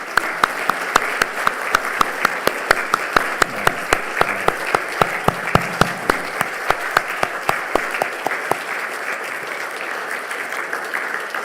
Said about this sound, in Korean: 큰 경애의 박수를